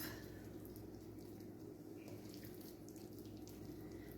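A kitchen tap runs steadily while hands are wetted during sourdough bread making, giving a continuous, fairly quiet rushing of water with no pauses and no voices.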